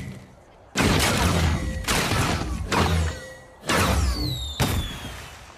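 Several sharp, loud bangs of fireworks in an irregular series, each followed by crackling, with whistling streaks rising between blasts, from an animated My Little Pony episode.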